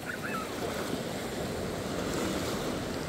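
Sea waves wash onto a white-sand beach on a warm evening, a steady close surf roar with wind buffeting the microphone throughout, and no voices.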